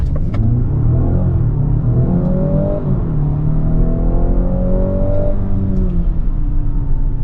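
A 2025 Mazda CX-90 plug-in hybrid SUV in sport mode revs and accelerates, its steady low growl climbing in pitch through rising gear sweeps, close and loud with no talking.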